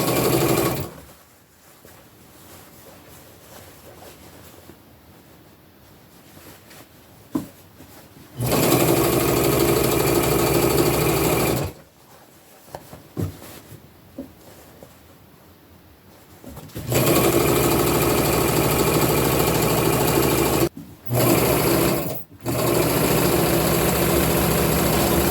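A sewing machine stitches pieces of an upcycled tunic together, running in long steady loud whirring stretches broken by short pauses and quieter handling of fabric.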